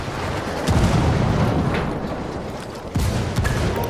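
A grenade blast in the Ghost Recon Wildlands video game gives a loud low boom, followed by a second heavy thump a couple of seconds later, over continuous rumbling combat noise.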